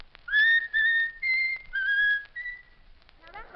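A short whistled melody of 'My Country 'Tis of Thee' in clear sustained notes, heard alone with quiet gaps between phrases.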